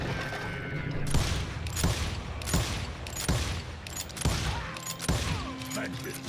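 Repeated heavy volleys of gunfire in the Call of Juarez: Gunslinger Western shooter, about six booming bursts roughly a second apart, loud and close, with mechanical clanks between them.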